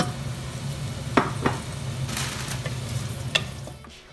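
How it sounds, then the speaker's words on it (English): Onions frying in hot oil for a Nigerian groundnut stew, a steady close sizzle with a few sharp scrapes and clinks of a spoon stirring, fading slightly at the end. "the oil is hot enough, and I've got in the onions"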